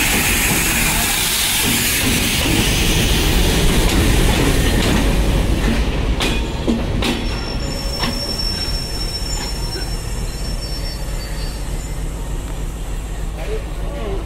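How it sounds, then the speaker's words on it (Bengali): Banglabandha Express pulling into Santahar Junction railway station: a loud, steady rumble of rolling coaches with hissing and a sustained high-pitched wheel squeal midway, close by and continuous. "দুপুর 2:57 বাংলাবন্ধা এক্সপ্রেস প্রবেশ করলো সান্তাহার রেলওয়ে জংশন স্টেশনে"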